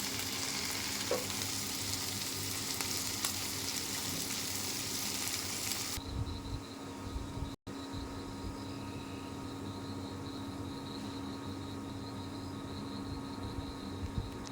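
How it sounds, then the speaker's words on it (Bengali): Tengra fish frying in a pan gives a loud, steady sizzle for about six seconds, then drops to a quieter continuous crackle, with a brief dropout partway through and no talking. "আমার মাছ ভাজা ফিরিয়ে দেওয়া হয়ে গেছে।"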